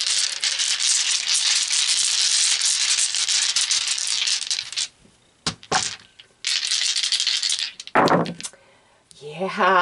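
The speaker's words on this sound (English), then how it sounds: "Let's pull some tarot dice." Tarot dice are shaken for several seconds in a steady, close rattle, then tumble out in a few sharp clicks and clatters, with a brief voice near the end.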